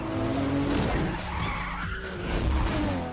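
Street-racing car braking hard and skidding, a loud tire squeal swelling and fading twice over engine noise, close and sustained through the clip.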